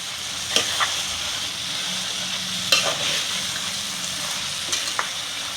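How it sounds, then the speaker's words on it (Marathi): Banana flower cooked with dried shrimp being sautéed and stirred in a pan, giving a continuous close sizzle with a few sharp scraping clicks of the spatula, no talk. "भाजी आपण चांगली परतून घेतोय"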